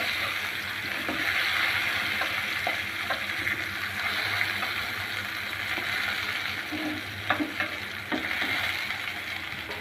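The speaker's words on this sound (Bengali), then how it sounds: "সবগুলা কাঁকরোল দেওয়া শেষ, ভালো করে ভেজে নিব" Pieces of spiny gourd sizzle and crackle steadily in hot oil, with occasional clinks and stirring noises close by.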